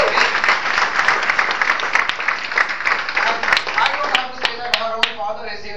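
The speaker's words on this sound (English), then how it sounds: "she does deserve a fantastic round of applause" Audience applause for a speaker: a full crowd clapping loudly and steadily, thinning into scattered individual claps as it dies down near the end.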